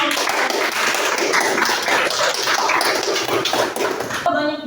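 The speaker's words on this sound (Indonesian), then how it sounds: "Tepuk tangan dulu." Group hand clapping at a teacher-training event, many hands clapping together in a busy, continuous patter that stops abruptly near the end.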